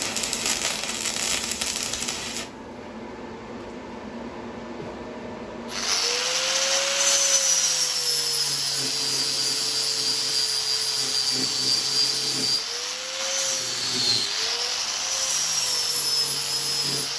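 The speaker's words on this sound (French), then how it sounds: "Il me manque à couper ça à la bonne dimension, le souder." Power tool cutting steel stock for a DIY coffee table leg, a loud steady grinding whine that drops out briefly and then resumes with shifting pitch as the blade bites, close by with no talk.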